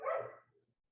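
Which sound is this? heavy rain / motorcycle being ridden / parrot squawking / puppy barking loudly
puppy barking loudly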